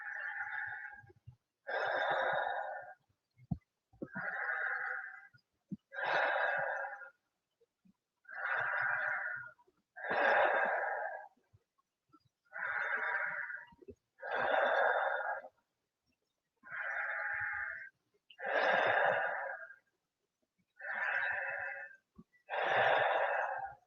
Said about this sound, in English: Let's do 10 more nice deep breaths.